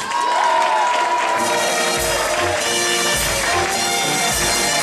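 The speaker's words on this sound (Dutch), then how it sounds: "Geef het Lotte en de Camille Dorm ook een grandioos applaus." A crowd at a regional clog-throwing championship claps and cheers for the winners, a loud, dense burst of applause with shouts, as festive music plays alongside.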